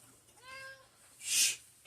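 A cat meows once, close by, with a short rising-falling cry, and then a person gives a sharp hissing shush. It happens indoors while an electric fence energizer is being tested.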